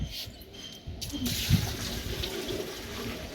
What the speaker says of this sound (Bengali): এই ছোটো বালতিটা করে ঢেলে নে উপর উঁচা করে দিয়ে